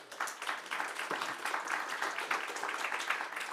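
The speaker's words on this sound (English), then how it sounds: "I hope you can hear the applause we're giving you." Conference audience at a European-Ukrainian energy event applauding, a close, continuous crackle of many hands clapping at even strength for several seconds, with no talk over it.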